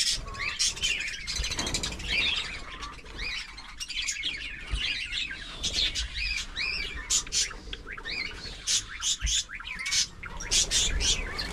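Parakeets in a cage chirp and squawk continuously, a dense flock of overlapping bright calls and chatter filling the space at close range, with no talk over them.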